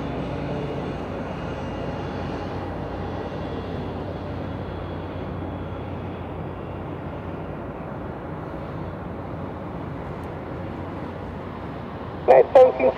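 Jet airliners at Chicago O'Hare airport at night give a steady, distant broadband roar throughout, with a brief sharper burst of sound near the end.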